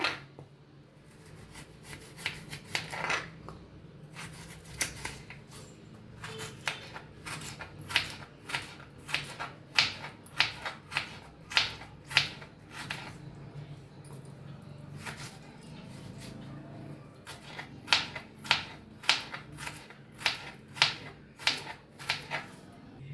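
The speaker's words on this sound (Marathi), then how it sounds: "गाजर बी कापून घेऊया बारीक" A knife finely chopping carrots on a board while a salad is made: quick runs of sharp, fairly quiet taps that come in bursts with short pauses between them.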